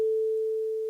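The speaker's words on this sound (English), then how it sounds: "it's going to be our fourth sine wave now, is the bass note" Low sine wave bass note from a Nord Micro Modular synthesizer, a single pure steady tone sustained for about a second, sounding alone with a clean start and stop.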